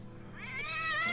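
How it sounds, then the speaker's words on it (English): A cat meows once in a film, a short, rising, drawn-out wail heard alone and fairly faint. "It was a cat"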